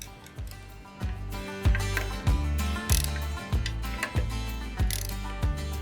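Ratchet tightens bolts on the new-style bands of a Big Green Egg grill, a series of close, crisp clicking strokes repeating roughly every half second in an even rhythm.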